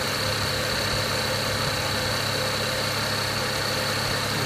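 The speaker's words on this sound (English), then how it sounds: "Car is a little noisy, and that's because they have a bad, from what I'm listening, is the idler pulley" A BMW E90 car engine idles steadily at close range, its constant hum carrying a persistent high whine from a worn, noisy idler pulley, with no voices.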